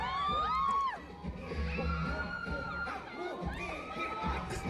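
Crowd at a live concert screaming and cheering at Summer Sonic in Osaka, with shrill sustained shrieks and whoops layered over a continuous roar of the audience.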